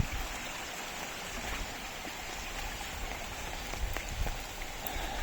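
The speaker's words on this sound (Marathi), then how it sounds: "तिथून आता पाऊस वगैरे चालू आहे" Rain falls steadily on a waterfall trek near Satara, a soft continuous hiss of drops on foliage and ground, with a faint stream running beneath.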